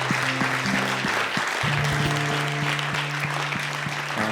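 A church congregation claps in a sustained, even wash of applause while keyboard chords play steadily underneath, the sound filling a worship space throughout.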